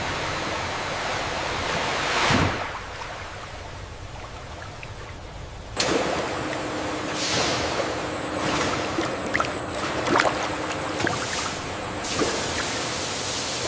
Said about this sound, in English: The gentle hydraulic tipper begins the journey, carefully releasing fresh watermelons into purified water for cleaning.